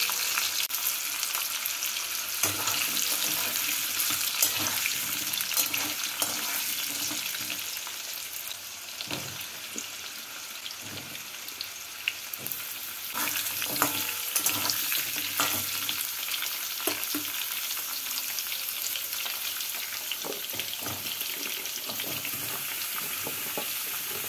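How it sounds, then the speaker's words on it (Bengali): Mixed vegetables frying in hot oil in a kadai, a dense continuous sizzle with intermittent scrapes and clatter of stirring, close and steady throughout without speech. "এবার সবজিগুলোকে হালকা করে ভেজে নেব"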